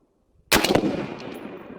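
A single sniper rifle shot in a video game cracks sharply out of silence. A loud, echoing tail follows and fades over about a second.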